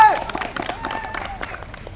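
A village crowd at a pond-side bamboo contest breaks into brief, scattered clapping that quickly thins out, with voices chattering through it.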